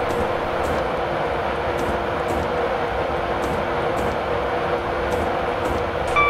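A Class 91 electric locomotive in a train simulator runs steadily downgrade on reduced throttle, with a low rolling rumble and constant hum, punctuated by regular clicks of wheels over rail joints.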